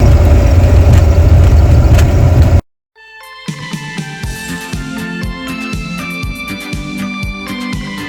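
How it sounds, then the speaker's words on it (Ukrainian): A VAZ 2107 car engine is cranked and catches after a short silence, then settles into a steady, fairly loud idle with a rhythmic mechanical tick, close to the listener. "Заводимо машину, зараз будемо рушати."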